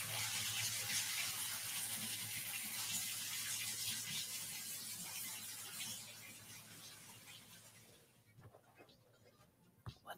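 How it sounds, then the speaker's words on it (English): A faucet runs in a steady, hissing stream at a household sink, close and continuous for several seconds before it shuts off, leaving faint clinks behind. "He's just running the faucet."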